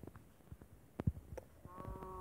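A sheep in a survival video game gives a short, faint bleat toward the end, following a few soft scattered clicks and thumps in an otherwise quiet scene.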